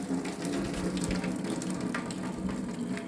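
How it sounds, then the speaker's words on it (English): Hot pasta water pours from a cooking pot into a sink while making mac and cheese, a steady, close rushing gush of water that runs continuously without pause. "So that's going to let the water drain out."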